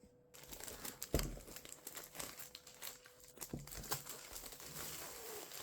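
Soft, close crinkling and rustling of packaging as a KnitPro Mindful knitting set is unwrapped, continuous and quiet with a few sharper crackles.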